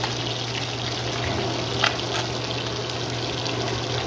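Fried food sizzles steadily in a pan after being flipped, a continuous close hiss with a faint low hum underneath and one brief spatter, no talking.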